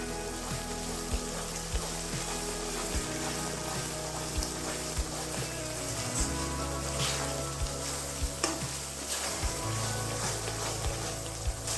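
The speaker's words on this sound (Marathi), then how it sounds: "मसाला तेल सुटेपर्यंत परतून घ्यायचा आहे पुन्हा" Ground spice masala with garam masala and Kashmiri chili powder sautéing in oil, a dense continuous sizzle and crackle with occasional stirring scrapes, close and fairly loud.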